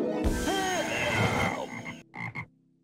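A toad croaks in The Sims: Makin' Magic, a clear, close, drawn-out ribbiting call followed by a couple of short croaks.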